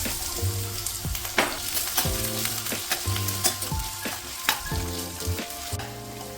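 Chopped potato sautéing in hot coconut oil for a spicy masala curry, a steady close sizzle with frequent spoon-against-pan scrapes and knocks running throughout, no voices.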